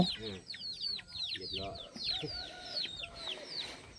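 Chickens cluck repeatedly and close by in a rural Thai setting, with quick overlapping calls continuing throughout and a person speaking briefly underneath.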